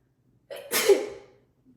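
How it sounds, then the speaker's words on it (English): A single close sneeze: a quick inhale followed by a sharp, explosive burst that trails off, in an otherwise quiet setting. "I think I just sneezed on me"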